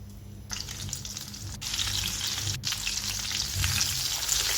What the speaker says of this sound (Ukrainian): В борошні і в яйці обжаримо м'ясо до готовності.